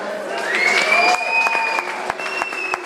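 Live concert audience applauding and cheering for a band member being introduced at a Mexican Garden Night show, steady clapping with whoops filling the whole stretch at moderate loudness.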